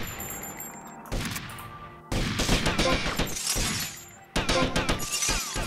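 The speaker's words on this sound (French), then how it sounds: "Qui me tire dessus?" Gunfire in the GTA Vice City video game arrives as dense bursts of crackling shots and shattering impacts in several loud waves, with no one talking.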